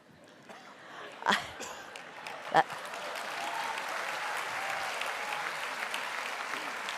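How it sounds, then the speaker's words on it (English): Parents applauding at a George Brown College convocation ceremony in 2018, steady broad clapping from a large crowd that swells and holds, with a couple of sharper sounds early on. "That's the parents, is it, that are clapping?"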